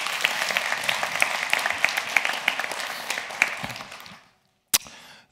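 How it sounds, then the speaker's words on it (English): Conference audience applauding the event volunteers, a steady mass of clapping that fades out after about four seconds, then one sharp clap-like burst and a low tail. "So big round of applause for them,"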